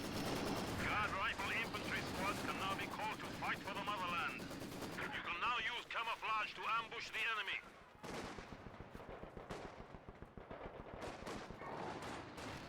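Faint machine gun fire and scattered shots crackle in a tournament video game match, coming in irregular bursts beneath steady commentary voices.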